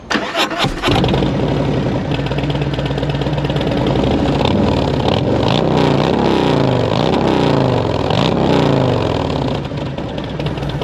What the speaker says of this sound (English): This bike has a tab performance exhaust. I don't know if you can hear that.